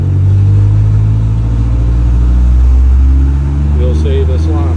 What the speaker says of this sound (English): So as I rev it up